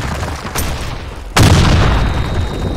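Grenade blast in the online shooter game Blackshot, a loud sudden boom with a long rumbling tail, following a fainter crack of gunfire a moment earlier.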